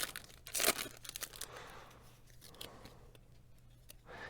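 Foil wrapper of a 1997 Fleer Ultra Series 1 hobby baseball card pack tearing open, with a sharp crinkling rip near the start followed by softer rustling and crackling of the foil, close and fairly quiet.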